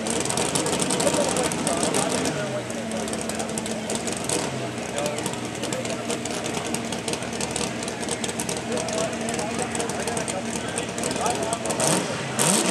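Engine of a modified two-wheel drive pulling truck at a truck pull, a loud continuous roar with steady rumble throughout, while an announcer talks over it.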